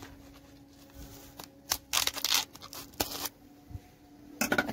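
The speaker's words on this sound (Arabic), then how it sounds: "نجيب مقص" Scissors snip and crunch through a plastic cup holding a strawberry seedling, with several sharp irregular cuts and crinkling bursts, close up, with no talking.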